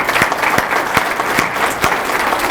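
Sustained audience applause at a community State of De Pere 2022 event, dense steady clapping filling the room with a few louder individual claps standing out, no talk over it.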